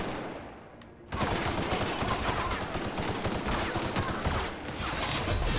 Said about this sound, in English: we're just shooting these guys now